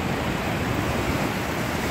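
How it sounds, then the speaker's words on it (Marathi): Calm, foaming sea waves wash steadily onto Divyaghat beach around sunset, a continuous broadband surf roar with no distinct breaks, fairly close and even in level throughout. "आता शांत, लाटा पण शांत फेसाळलेले यायला लागलेले."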